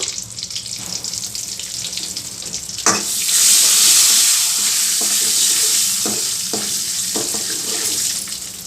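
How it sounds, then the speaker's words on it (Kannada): A loud, crackling sizzle erupts suddenly and holds steady as mustard seeds hit hot oil, with a few sharp clinks of a utensil against the pan. "ಎಣ್ಣೆ ಕಾದಿದೆ ಸಾಸಿವೆ ಹಾಕ್ತಾಯಿದ್ದೀನಿ"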